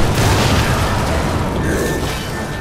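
A loud, sustained boom from a detonation in the video game Darksiders 2, with a dense rumbling roar that fills the whole clip and slowly fades.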